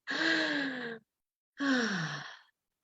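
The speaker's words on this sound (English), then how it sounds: "breathe all the way out till there's no air left" Two long, deliberate exhalations in a breathing meditation, each a breathy sigh of about a second with a pause between, close and clear, with no talking.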